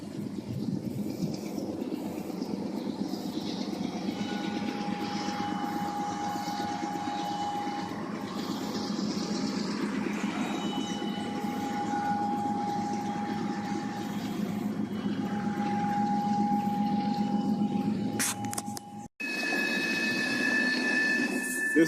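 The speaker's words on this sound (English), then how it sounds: "This is a CSX coke train on the city track connection." A CSX coke train rolls slowly along a city track connection, a long continuous rumble of wheels and cars with faint squealing tones, ending in an abrupt cut to a brighter, louder stretch of rail noise.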